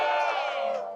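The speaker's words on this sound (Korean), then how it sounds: "제가 단체명을 하나하나 호명할 때마다 크게 함성을 질러주십시오." Protest rally crowd opposing a nursing bill lets out a loud, sustained collective shout, a dense roar of many voices that fades slightly toward the end.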